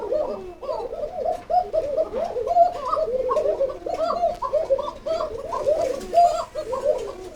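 Male pigeons in cages cooing, a dense overlapping chorus of repeated throaty coos, close and steady, with no voices.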